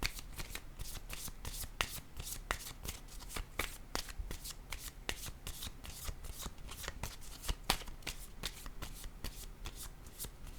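Close, crisp shuffling of a deck of tarot-style cards for a reading, with rapid riffling and regular sharp flicks and snaps repeating steadily throughout, no speech.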